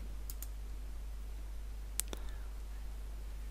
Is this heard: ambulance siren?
no